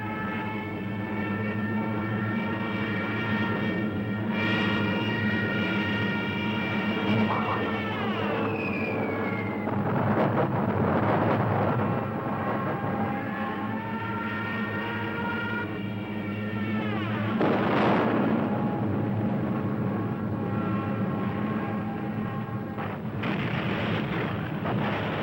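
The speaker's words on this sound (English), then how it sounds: "the Stukas appear in the clear blue sky. The Stukas, with their terrifying sirens." Stuka dive bombers over the Battle of France in WWII: loud wailing siren tones that slide downward, mixed with heavy rumbling explosion bursts and a constant roar, with no talking.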